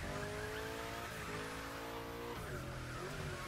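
BMW M5 Drift Edition drifting in The Crew Motorfest, a steady, loud engine drone with shifting revs and faint tire squeal, heard alone.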